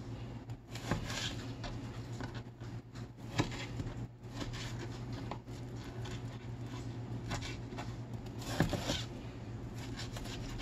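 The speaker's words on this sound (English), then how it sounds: "it's still a little frozen, making it easier to cut. So I'm just going to cut it into pieces for my skewers, just like so." Partly frozen salmon being sliced into skewer pieces with a 5-inch ceramic knife, giving soft repeated scraping and cutting strokes close by over a steady low background hum.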